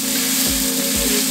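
Oyster mushrooms frying in oil in a pan give off a loud, steady sizzle that runs without a break, with a couple of soft low thumps as they are pressed down.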